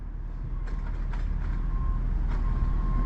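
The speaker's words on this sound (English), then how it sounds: "And then we've got some dumper trucks." Dumper trucks rumble at a construction site with a loud, steady engine drone and a high reversing beep that repeats, near and continuous, with no voices.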